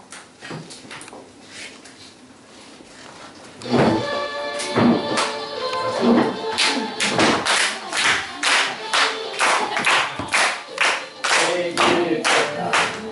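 At a small library opening ceremony, an audience claps in a steady rhythmic beat while singing a school song together, with loud regular claps joining in after a few seconds of scattered taps.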